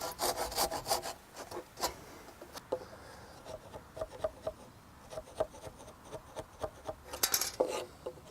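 Hand saw cutting wood joints for a frame on top of a wall, with a run of rhythmic rasping strokes, some bursts louder and others lighter, close by with no talk.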